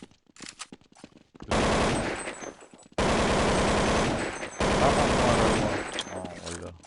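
Shotgun fire in a jailbreak multiplayer video game: long loud bursts of rapid gunfire in three stretches after a few scattered shots, with gameplay chatter around them.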